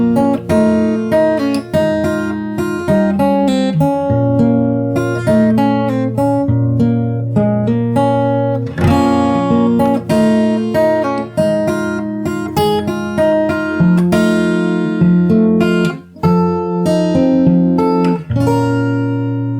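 A steady stream of picked notes and bass lines on a fingerstyle acoustic guitar carries the full chorus of a song for about twenty seconds, close, bright and even, with no talking.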